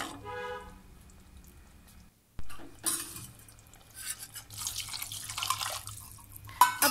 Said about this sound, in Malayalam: ഇനി ആവശ്യത്തിന് വെള്ളം ഒഴിച്ചു കൊടുക്കാം.